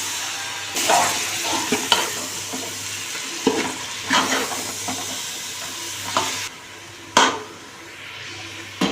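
Mushrooms sautéing in a hot pan, with a steady close sizzle broken by repeated scraping stirs and a few sharp clatters from the spoon against the pan.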